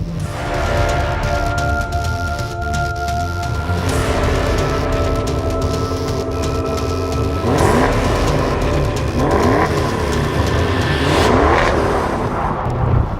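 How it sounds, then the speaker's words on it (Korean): A Maserati Trofeo driven in Corsa mode, its engine loud and close, holding a steady drone and then revving hard in several rising sweeps. "현재는 코르사 모드에서 주행을 하고 있습니다."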